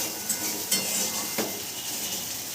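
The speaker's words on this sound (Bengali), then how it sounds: "আমি এখন রান্না করছি আলু ফুলকপির তরকারি চিংড়ি মাছ দিয়ে" A potato and cauliflower curry with prawns cooks in a pan, producing a steady, moderate sizzle with occasional sharp taps of a utensil against the pan.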